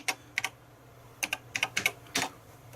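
Keys tapped on a BBC Master computer keyboard, a quick irregular series of about ten crisp clicks in small bursts, close and clear with no talking.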